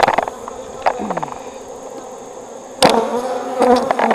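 Honeybees buzzing around an open hive during a winter inspection, a dense steady hum close by, with some louder passing buzzes and a few knocks and rustles of handling.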